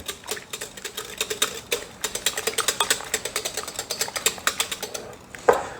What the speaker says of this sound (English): I can set that aside, and we'll stir this up.